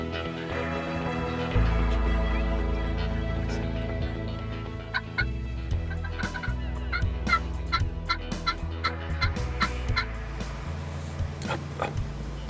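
A wild turkey gobbles several times in the distance during a hunt, over a steady low background hum, the calls repeating in short bursts.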